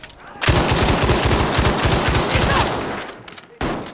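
Sustained automatic gunfire with heavy recoil from a Battlefield 5 Pacific front milsim match, a loud, dense rapid burst lasting about three seconds before a short pause and another shot.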